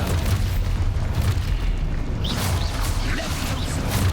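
A blasting spell goes off in the Hogwarts Legacy video game, a booming explosion over a dense, continuous low rumble that lasts the whole moment with no quiet gaps.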